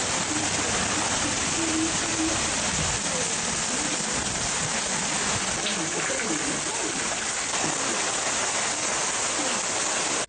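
Rain and floodwater in Hambantota district, a loud, steady wash of broadband water noise like heavy rain or rushing flow, constant and close throughout with no voices heard.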